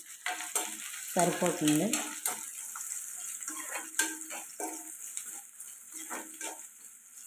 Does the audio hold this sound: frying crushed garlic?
yes